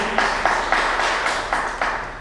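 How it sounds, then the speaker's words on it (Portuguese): A church congregation claps for Jesus in a steady, rhythmic beat of roughly six or seven claps, close and fairly loud, with no talking. "palmas para Jesus"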